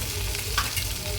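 Cumin, mustard seeds and ginger-garlic paste sizzle steadily in hot oil in a pan while cooking a tomato-onion gravy for drumstick curry, a continuous close crackle with a brief stirring scrape in the middle.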